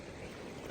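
A small stream flows beside a land plot in Fergana, Uzbekistan, giving a faint, steady rushing wash of water for under a second, with no voices.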